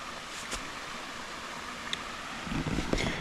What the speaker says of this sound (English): enjoy the sound of this water.